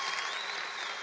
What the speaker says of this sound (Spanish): Un aplauso para Welfren y Sandra.